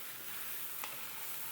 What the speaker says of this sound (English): Just stir everything around.